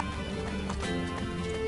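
Horse hooves clip-clop in Assassin's Creed Brotherhood, a quick continuous trotting patter mixed with game sounds and music, moderately quiet.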